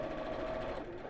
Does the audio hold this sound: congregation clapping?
no